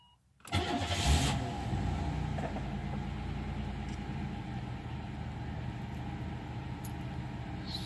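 A 1992 car with 96,285 miles cold-starts: a brief crank and catch, then the engine settles into a steady, even idle nearby, with no voices.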